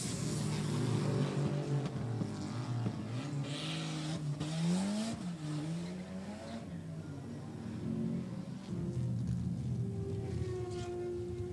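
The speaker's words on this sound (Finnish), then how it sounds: "Tässä näyte kilpailun nopeimmasta varikkotoiminnasta. Kuljettajan vaihto, tankkaus ja uudet renkaat" A racing car at a fast pit stop during a 1987 Volvo race, with an engine droning and rising and falling in pitch, other cars passing, and mechanical clatter from the driver change, refuelling and tyre work, loud and continuous.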